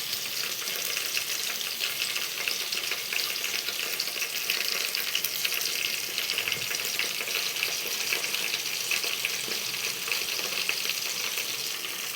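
Curry leaves frying in hot oil for pappu charu, a dense, steady, close sizzle that crackles evenly throughout with no pauses or talking.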